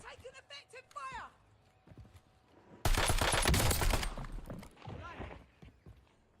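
Gunfire in the video game ARC Raiders erupts as a loud, dense burst of shots lasting about a second and a half midway, after quieter game sounds and a voice, with softer noises trailing off afterward.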